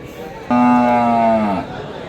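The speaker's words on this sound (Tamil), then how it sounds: "அதே மாதிரி இது மாட்டு சந்தை எப்படி இருக்குன்னு பார்த்துங்க" A single cow at a busy cattle market gives one loud, close moo lasting about a second, over low market background noise.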